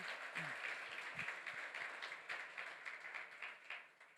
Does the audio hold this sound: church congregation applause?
yes